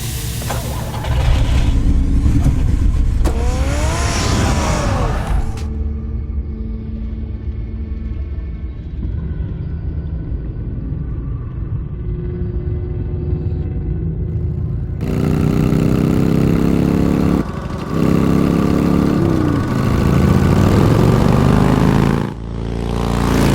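A car engine from a Batman video game runs with a steady, loud drone. The pitch rises and falls through the drive, and a heavier roar returns toward the end, with no voices.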